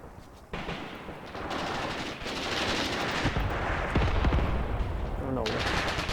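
Dense, sustained gunfire from an Eastern Front World War II battle in a video game, set in 1943 at Kalinkova, with rattling machine-gun bursts and rifle shots layered over one another at a steady loud level after a brief quiet opening.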